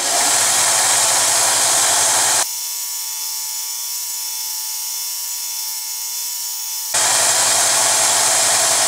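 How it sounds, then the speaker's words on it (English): A power grinding tool fitted with sandpaper grinds a part, heard as a loud, steady high-pitched whirring drone. Midway it shifts to a smoother, purer motor whine for several seconds, then returns to the rougher grinding sound. "I went ahead and fit this paper right in here and let it start grinding"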